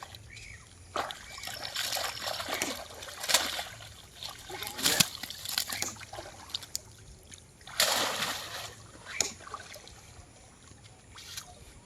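Fish splashing in a brimming river, with scattered irregular splashes and trickles close by over a steady background of flowing water, and no talk.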